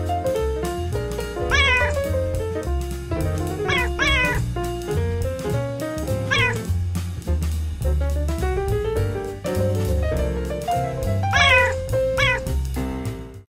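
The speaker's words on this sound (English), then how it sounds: "And I just heard a cat screaming." A cat meows and screams in a few drawn-out, rising calls heard over steady loud background music, rather than in quiet.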